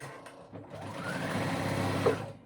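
A sewing machine runs a dress seam closed, its motor whirring steadily and close for about two seconds before winding down.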